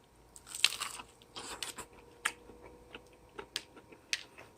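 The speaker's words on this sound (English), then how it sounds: "Let's taste the regular fried chicken" Someone bites into crunchy flour-battered fried chicken, giving quiet, sharp crunches and crisp chewing snaps at an irregular pace, close to the mic.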